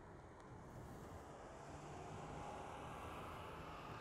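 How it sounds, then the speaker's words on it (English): Steady low roar of wind buffeting outdoors, a continuous broadband rumble with no voices. "Still a bit windy today."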